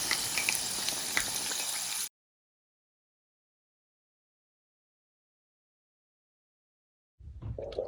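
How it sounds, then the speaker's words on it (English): Cabbage and shrimp egg rolls fry in hot oil, giving a loud, steady sizzle for about two seconds. It cuts to silence, and a brief bubbling sizzle returns at the end. "you want to let them brown on each side first before taking them out or turning them over"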